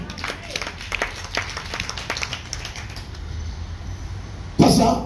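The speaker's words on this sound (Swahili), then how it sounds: "Yesu, makofi ya juu" A church congregation claps in quick, uneven bursts at moderate distance, with faint voices under it. A louder thump of noise comes near the end.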